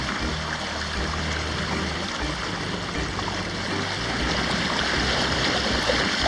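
A sailboat motors north under engine against the current on a gray day, with a constant broadband rush of water along the hull and a steady engine drone throughout.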